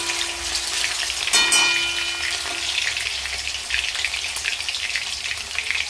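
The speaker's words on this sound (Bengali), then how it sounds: "দিয়ে দিচ্ছি কেটে রাখা আলু। আলুগুলো লাল করে ভেজে তুলে নেব।" Cut potatoes for a jackfruit vegetable curry frying in hot oil, a steady dense sizzle throughout with a brief louder crackle early on, close and alone without voices.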